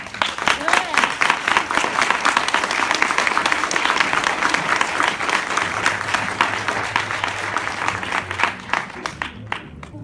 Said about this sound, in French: Donc je vous demande d'applaudir Céline Le Cavorzin